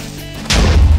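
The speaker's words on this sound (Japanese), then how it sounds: "あえて爆破させる" An explosion deliberately set off in Minecraft bursts in halfway through after a quiet lead-in, a loud, deep blast that rumbles on to the end.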